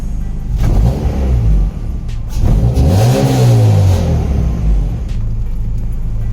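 A Honda EK Civic engine with an H2B swap revs up loudly, its pitch climbing and falling in a sustained roar, close by with no talking.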